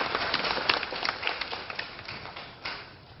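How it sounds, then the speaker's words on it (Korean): Residents at an apartment reconstruction committee's general meeting give a round of applause indoors, a dense, even patter of many hands clapping that thins gradually toward the end. "수고해주신 굿모닝 세무법인의 김명삼 사무장님께 큰 박수 한번 보내주시기 바랍니다"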